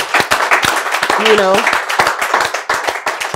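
An audience at a charity and good-causes event claps in scattered, uneven bursts, fairly close, while a person talks over the clapping.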